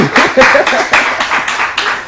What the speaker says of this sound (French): Alors des applaudissements s'il vous plaît pour lui.